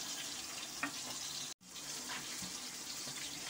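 Curd warms on a stove for curd rice and simmers lightly, giving a faint, continuous bubbling hiss with a few soft pops.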